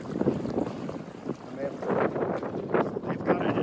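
Strong wind gusts and buffets across the microphone aboard a Buccaneer 18 sailboat, a continuous rushing with surging peaks and water noise beneath, while a person talks over it.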